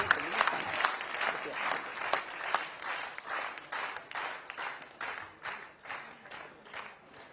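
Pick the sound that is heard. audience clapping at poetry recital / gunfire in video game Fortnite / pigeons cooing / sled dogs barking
audience clapping at poetry recital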